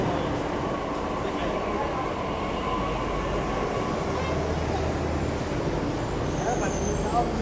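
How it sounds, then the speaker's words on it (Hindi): A Delhi Metro Blue Line train to Noida Electronic City arrives and rumbles steadily in the station, with a constant low roar of wheels and crowd noise and a faint high electronic tone near the end. "अपनी ये आ गई येलो लाइन की नोएडा इलेक्ट्रॉनिक सिटी जाने वाली मेट्रो"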